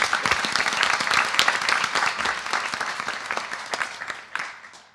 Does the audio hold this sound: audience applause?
yes